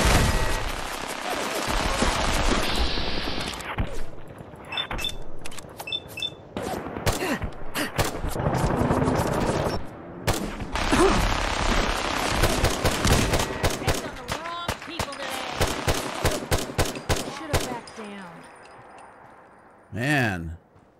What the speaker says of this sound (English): what kind of guns that guy got? A minigun?